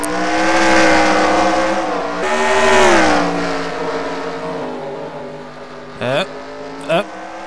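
Race cars accelerate back up to speed after a restart at Delaware in a racing series, engines roaring in loud sustained, rising whines, with two short sharp bursts of a car passing close near the end.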